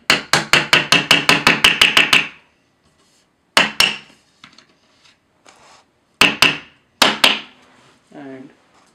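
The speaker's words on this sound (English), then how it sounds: "I'll just lightly hammer them," Wooden studs hammered into the plates of an IKEA Malm desk: a quick run of about a dozen sharp, close knocks, then a few separate single taps with pauses, and a brief voice near the end.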